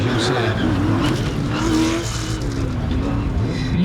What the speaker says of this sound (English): beautiful roar when he changes down, so crisp.